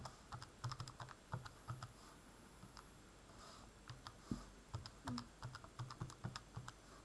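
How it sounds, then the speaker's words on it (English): Soft, quick plastic key presses tap out an irregular run of numbers on a calculator, quiet and close with no voices. "type it into your calculator carefully"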